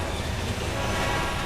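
Train rumbling past at close range inside a video game rail tunnel, a loud, steady roar that fills the whole clip with no voices over it.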